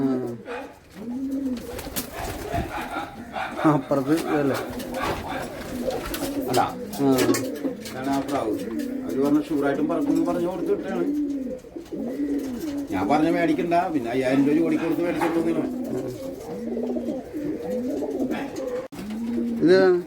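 Pigeons coo repeatedly in low, rolling calls throughout, while people talk nearby over the cooing.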